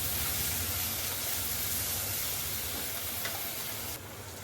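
Turmeric, salt and spices sautéing in hot oil give a steady, even sizzle close by, a dense hiss that runs the whole time and drops slightly near the end.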